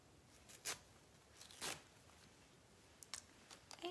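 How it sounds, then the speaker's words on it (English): Fabric backing being torn away from an embroidered waffle wrap, heard as a few short, quiet ripping bursts with pauses in between. "I'm gonna tear it away."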